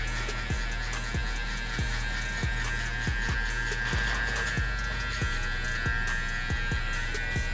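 Electric hair clippers buzz steadily and close during a mid drop fade haircut at a barber's chair, a constant motor hum broken by evenly spaced soft clicks or taps about twice a second.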